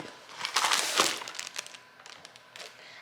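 Close crinkling and tearing of a yellow cake mix packet made of paper and plastic, a burst of rustling followed by smaller scattered crackles as it is worked open.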